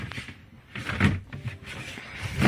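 Storage drawer pulled out beneath the floor of a tiny house camper, a few wooden thumps and sliding scrapes at close range, loud and irregular over a couple of seconds.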